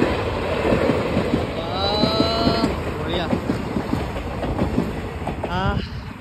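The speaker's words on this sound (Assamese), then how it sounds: "এইখন হৈছে ডেকাৰগাঁৱৰ পৰা অহা ট্ৰেইন আচলতে আমাৰ চিবেন চাপৰি চিবেন দলঙৰ ওপৰতে গতি কৰিছে" A long passenger train from Dekargaon rumbles across a river bridge, with steady rolling clatter and a squealing whine in the middle, heard fairly close under brief distant voices.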